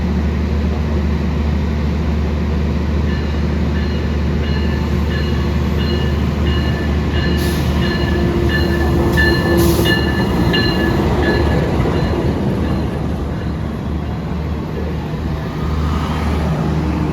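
A new KRL commuter train built by PT Inka Madiun runs past with a loud, steady rumble, a sustained electric whine and repeated beeping tones, near and continuous with no talk.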